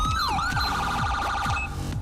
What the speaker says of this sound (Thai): อ่าตัวนี้ก็สามารถเปิด เสียงไซเรนได้แล้วนะฮะแบบนี้